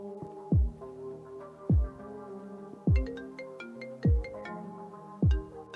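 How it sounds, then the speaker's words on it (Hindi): A melodic electronic ringtone plays alone, a repeating chime phrase with a low thumping pulse about once a second, moderately loud and steady. "चौधरी भाई का फोन"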